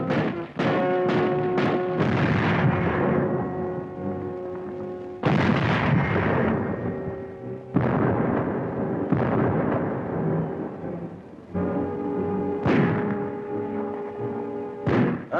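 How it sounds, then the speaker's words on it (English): Artillery and naval guns bombarding harbor defenses at Gdynia, Poland, in 1939: heavy booming blasts in repeated bursts, each rolling away into a long rumbling decay, loud and close. "The Nazis direct their fire across the harbor."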